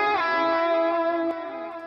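Distorted electric guitar plays a short fill in a song's chorus, a bright buzzing sustained chord that bends and then drops slightly in level.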